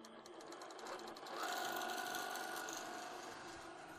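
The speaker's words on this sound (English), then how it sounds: "And I will start the stitching process." An embroidery sewing machine stitches a pattern with a rapid, even mechanical whir and ratcheting chatter, starting softer then settling into a louder steady run up close, with no voices.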